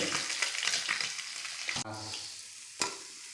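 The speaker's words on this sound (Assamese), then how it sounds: "মাছ ফ্ৰাই কৰি আছোঁ লগতে" Local fish fries in a pan with a constant close hiss and crackle of hot oil, broken by a couple of sharp clatters as the pieces are stirred or turned.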